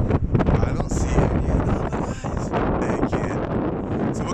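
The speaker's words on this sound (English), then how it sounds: "It's a bit windy" Steady, loud wind blusters across the microphone in a park, a constant roar with faint rustling.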